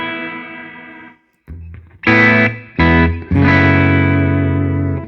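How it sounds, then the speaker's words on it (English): Electric guitar runs through eighth-note delay, a Cosmos echo at a half-note delay and large reverb, producing loud sustained chords and notes that swell, stop briefly and ring out with long echoing tails. "So that was the eighth note delay and the Cosmos echo at a half note delay."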